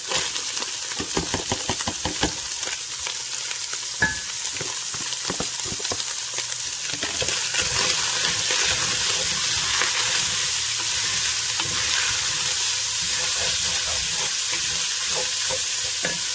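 Vegetables stirred into a hot pan of browned ground beef for chilli, steady loud sizzling and frying with intermittent scraping and clinking of a utensil against the pan, close and continuous.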